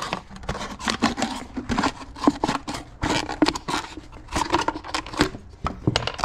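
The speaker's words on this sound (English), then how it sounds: "Little incision. Get the scissors in there." Scissors snip and crinkle through a plastic bottle being trimmed for a greenhouse, a steady run of sharp cuts and crackling plastic close up with no talking.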